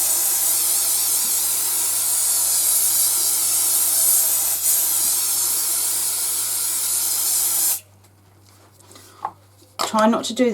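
An aerosol spray can sprays indoors while a glittery winter woods craft scene is being made: a loud, steady hiss runs for nearly eight seconds, then cuts off, followed by faint handling and a few sharp clatters.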